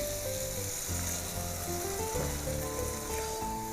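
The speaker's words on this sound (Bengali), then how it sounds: "আমি আবার 2 টেবিল চামচের মতো নারকেলের দুধ দিয়ে একটু নেড়েচেড়ে ভালো মতো মাছটাকেও একটু কষিয়ে নিচ্ছি" Prawns sauté with a couple of spoonfuls of coconut milk for a malaikari curry, giving off a soft, continuous sizzle and light frying crackle at low volume.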